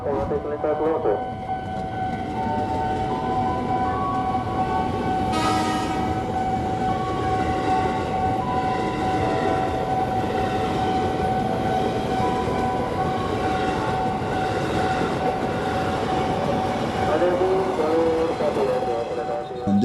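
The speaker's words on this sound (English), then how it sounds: "a stopped commuter line train, the one that blows its horn just before departure" At an Indonesian level crossing, a stopped commuter line train sounds a long, loud tonal horn that holds for many seconds, then rumbles off amid steady rail noise.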